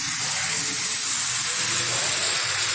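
Ginger and garlic paste going into a pan of chicken for an Odisha-style chicken kosha, giving a steady loud sizzle and hiss throughout with no talking.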